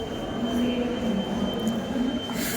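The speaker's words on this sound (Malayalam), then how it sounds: "ഞങ്ങളപ്പതേ മെട്രോ സ്റ്റേഷനിൽ കൂടി കയറി." A metro train rumbles steadily along its rails with a continuous low drone and faint wheel squeal, loud and close throughout, with no talk.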